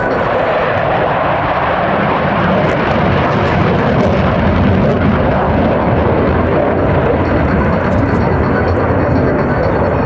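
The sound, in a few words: jet aircraft flying past at an airshow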